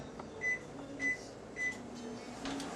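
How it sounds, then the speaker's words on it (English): A microwave oven runs while heating a sealed tobacco pouch with a few drops of water, a faint, steady low hum marked by a few short, soft tonal blips, with no speech. "I'm going to pop it in the microwave"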